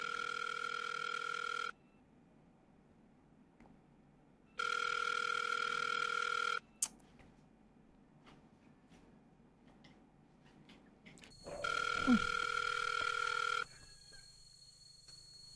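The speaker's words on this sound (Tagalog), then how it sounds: "Nag-iring lang siya pero hindi siya sumasagot." A telephone rings in three long electronic bursts with pauses between them, and nobody answers; faint background noise fills the gaps and a brief knock sounds near the end.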